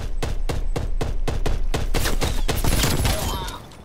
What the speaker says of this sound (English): What the fuck is you shooting at, dude?